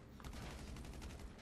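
Rapid bursts of gunfire from a video game, dense and continuous like automatic weapons, loud throughout with no talking.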